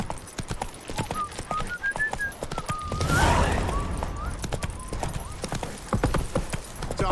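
Horse hooves clip-clop in a steady walking rhythm in Witcher 3, mid-distance. Game music plays underneath, and there is a brief louder burst of noise partway through.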